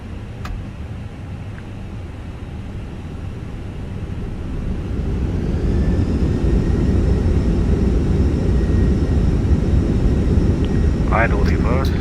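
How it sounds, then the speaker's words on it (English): Airbus A320 engines at maximum reverse thrust in Microsoft Flight Simulator, a broad steady jet roar that swells louder midway and holds, with faint high whine tones on top and a few brief clicks near the end. "Thrust levers to max reverse"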